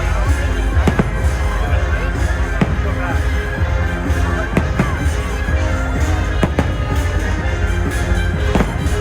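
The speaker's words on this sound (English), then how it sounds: "Like briefly seeing some fireworks and shows" Fireworks burst at Disneyland as a string of sharp booms at irregular intervals, heard over a constant rumbling, crowded background with murmuring voices.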